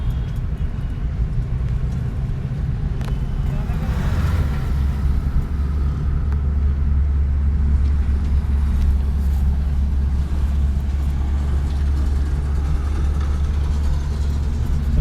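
A car engine hums and rumbles steadily during a driving lesson with a driving school in Solan, a low, continuous drone close inside the cabin, with a brief rise in revs midway and no speech.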